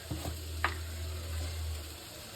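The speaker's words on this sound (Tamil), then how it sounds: "இனிமேல் தக்காளியை தட்டிடுவோம். நல்லா வதங்கட்டும்." Tomatoes sautéing in a pan, a steady low sizzle running throughout with a couple of brief scraping stir sounds near the start, close and fairly quiet, no voices.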